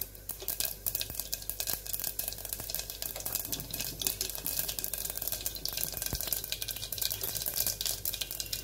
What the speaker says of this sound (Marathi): तेल घालायचं, जिरं, मोहरी आणि हिंग, हळद अशी आपण छान खमंग फोडणी करूया आधी